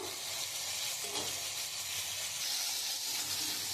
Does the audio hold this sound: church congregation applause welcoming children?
no